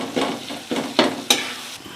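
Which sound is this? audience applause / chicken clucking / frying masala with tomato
frying masala with tomato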